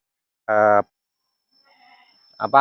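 Goats in a goat pen: one loud, close bleat, then a quiet stretch before another bleat begins at the end.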